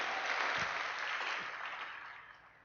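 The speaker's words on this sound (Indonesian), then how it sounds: "Luar biasa, tepuk tangan dong." Audience applause during an Indonesian talk show, a dense wash of clapping that starts strong and gradually thins and fades over a couple of seconds.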